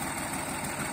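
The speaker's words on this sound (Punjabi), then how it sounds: "ਮੈਸੀ ਟਰੈਕਟਰ ਲਾਇਆ ਇਹਨਾਂ ਨੇ" A Massey tractor engine idles steadily nearby, a continuous low rumble with mid-range rattle and no voices over it.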